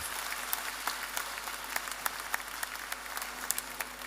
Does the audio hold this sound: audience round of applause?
yes